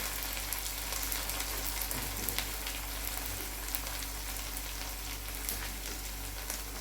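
Ground spices sizzling in hot frying oil, a steady close hiss with fine crackling spatters throughout, moderately quiet and without talk.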